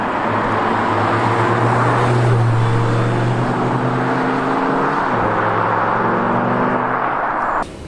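An Audi R8 V10 with R-Tronic gearbox drives along, its engine a loud, steady droning rumble heard from inside, rising slightly in pitch then dropping near the end, with no talking.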